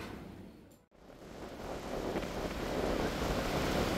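Gusty wind buffets the microphone over steady surf along the Sea of Japan coast, the roar briefly dropping out before building back into a loud, continuous rush of waves and wind.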